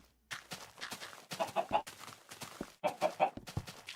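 Chickens clucking in the video game Minecraft, a run of repeated clucks and short squawks in bursts, fairly close and loud, with no talking over them.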